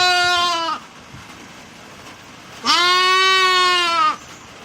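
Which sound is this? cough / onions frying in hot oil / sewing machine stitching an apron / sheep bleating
sheep bleating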